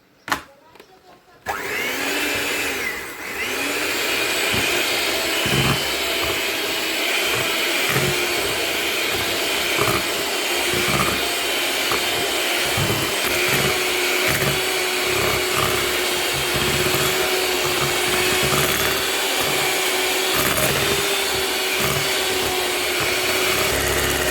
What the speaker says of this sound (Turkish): Ve şimdi çırpacağız arkadaşlar.